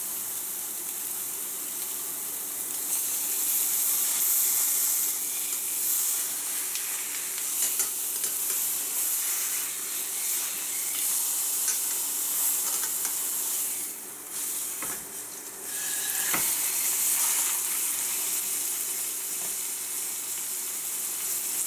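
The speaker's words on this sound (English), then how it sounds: "And all I want to do is just sear the outside of that." A pork sirloin roast sears in a hot pan, giving a steady, close sizzle and hiss that runs continuously with a brief dip partway through and a faint clink.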